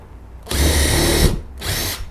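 A 2-in-1 X-Line20 drill bit and screwdriver set bores into pine wood, the power drill whining loudly in a long steady burst, then a brief pause before a second shorter run, with no talking.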